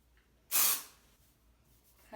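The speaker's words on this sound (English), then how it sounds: "So I just spray it a couple times in there" Hairspray sprays once in a short, hissing burst into hair while backcombing for volume, close and alone amid quiet.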